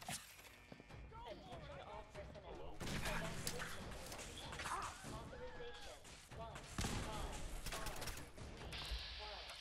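Gunfire in a Fallout 4 battle at the Institute, repeated shots and bursts of varying loudness amid busy combat effects, with voices talking over it.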